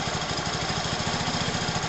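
A small engine runs steadily at idle with a rough, knocking low pulse after a repaired wiring connection, close and continuous with no speech.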